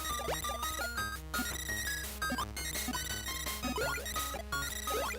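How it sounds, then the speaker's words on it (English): Kirby's Block Ball on the Game Boy gives off a dense, busy burst of chiptune bleeps and sweeping blips, loud and continuous, resembling a Metroid 2 title-screen noise. "That noise is like the title screen noise from Metroid 2."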